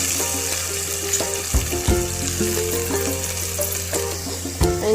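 Chopped onions hit hot oil already holding fennel, cinnamon and cloves, giving a close sizzle and splashy frying with a few clattering stirs and thumps. A faint musical hum runs underneath.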